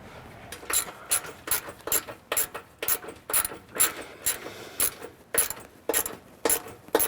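Metal tools working bolts while a WARN PowerPlant winch is fastened to a Jeep bumper and fairlead plate: repeated sharp ratcheting and rasping strokes in a steady, close rhythm, with no talking.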